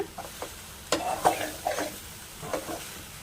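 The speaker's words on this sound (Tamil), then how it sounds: "இந்த ஆயில்லையே நல்லா கலரி கொடுத்துக்கிட்டே இருங்க" Soya chunks (meal maker) are stirred in hot oil in a pan, giving a soft sizzle broken by several scraping strokes of a spoon, quiet and close, with no voices.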